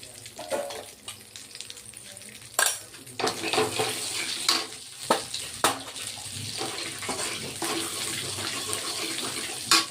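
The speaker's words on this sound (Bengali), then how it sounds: "এই যে শুকনো লঙ্কা দিয়ে দিলাম কালো জিরা ফোড়ন দিয়ে দিলাম" Dried red chillies and nigella seeds sizzling in hot oil for a pointed gourd dish, a constant crackling fry broken by sharp clanks of a spoon against the pan.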